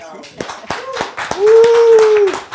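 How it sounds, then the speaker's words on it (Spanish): Audience applause for the Ictus theatre group at a talk, heard as a handful of sharp, scattered claps mixed with a loud voice holding a drawn-out tone nearby. "Un aplauso para el Ictus"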